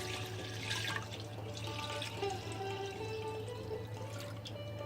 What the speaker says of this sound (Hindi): दूध को कढ़ाई में डालेंगे।